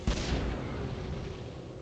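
A flash grenade goes off in the 1994 PC DOS game Cyberia: one sharp blast followed by a long, fading roar of noise, loud and alone.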